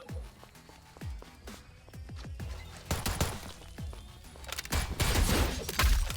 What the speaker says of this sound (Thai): โดนระดมยิง